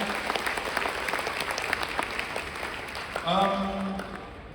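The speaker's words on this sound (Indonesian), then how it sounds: "berikan tepuk tangan kepada Bapak Ibu sekalian" An audience at a morning event in Indonesia claps steadily in a broad, moderate patter, while a voice speaks over it and a tonal voice rises clearly near the end.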